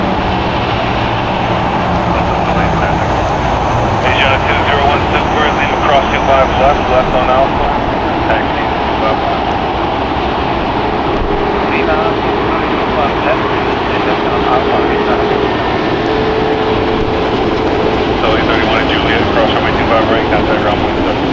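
Airliners, including an A380, a Turkish Airlines jet and a charter flight, taxi at LAX, giving a steady, continuous jet engine roar and whine that fills the background without break, with no clear talk over it.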